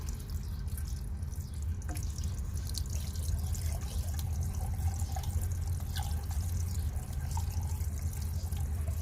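Water poured from a bottle into a water pump to clear an air lock trickles and drips steadily against a low, constant hum, faint and continuous with no talk.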